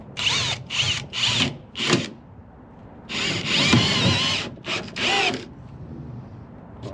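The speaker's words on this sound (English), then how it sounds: "Some self-drilling screws to hold this decking down." A power drill drives self-drilling screws into wooden decking in several close, loud bursts of whirring, with short pauses between screws and a longer run near the middle.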